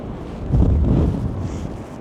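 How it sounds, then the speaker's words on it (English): Strong wind roars across a Pacific Ocean beach in stormy weather, a close, blustery rumble buffeting the microphone for a couple of seconds. "It's awfully windy."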